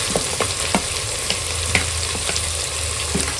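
Chopped tomatoes go into a pan of fried onions for home-made chicken biryani, bringing a steady oily sizzle broken by soft stirring clicks and scrapes at an irregular pace, close by with no talking.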